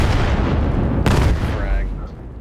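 A frag grenade explodes in the competitive shooter Vail during a playoff match, a single sharp broadband blast partway through, set against steady game noise and caster talk.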